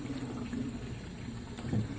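Steady water flowing over the surface of a gold mining sluice, a continuous close wash of rushing water with no talk.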